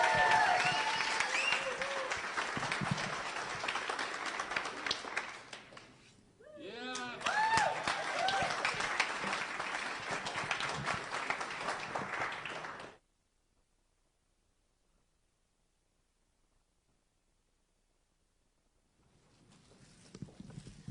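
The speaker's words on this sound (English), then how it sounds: "Round of applause to our next amazing presenter, Michelle Gronholm." Audience applause for a presenter coming on stage, loud dense clapping and crowd noise that fades briefly around the middle, swells again, then cuts off into silence before faint clapping returns at the end.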